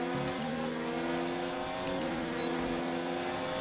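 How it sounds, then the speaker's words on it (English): Williams Formula 1 car engine in the F1 2019 racing game at the Bahrain Grand Prix, a steady loud high-pitched whine holding near full power with slight pitch shifts, alone without talk. "I need to turn the engine up."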